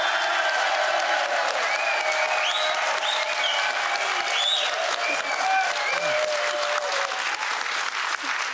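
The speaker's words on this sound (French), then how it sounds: "on peut applaudir Diego qui est notre chef de plateau" Studio audience at a televised game show applauding steadily and fairly loudly throughout, with a few raised voices and whoops rising over the continuous clapping.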